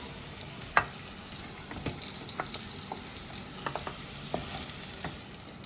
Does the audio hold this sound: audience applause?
no